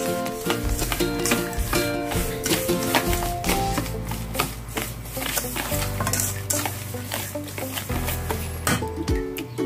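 A spoon steadily scrapes and churns brown sugar into sweet potato bread dough in a bowl, producing continuous close, busy clattering and rubbing strokes without pause.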